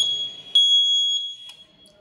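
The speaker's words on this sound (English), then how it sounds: "When the rider removes the helmet, the buzzer will beep and the motor stops." Buzzer on a smart helmet beeping as the helmet is removed: a steady, piercing electronic tone held for about a second, then cut off, close and loud with no talking.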